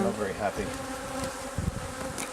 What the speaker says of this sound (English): right now there's a lot of bees